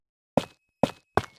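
Three short, solid placing thuds of calcite blocks in the Minecraft video game, clean and close, each fading quickly into silence, with slightly uneven spacing between them.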